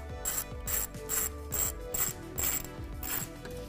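A ratchet with a 10 mm socket cranks a battery terminal bolt tight in steady back-and-forth strokes, each stroke a close, quick burst of metallic clicks.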